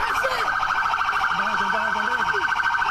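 A police car siren wails loudly and steadily nearby during an armed police confrontation, its rising and falling tone cycling rapidly without pause.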